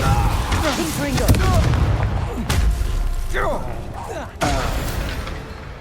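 Spell combat in the Hogwarts Legacy video game: a dense run of magical whooshes, booming blasts and sharp impacts over a steady rumble, with a voice calling out during the fight.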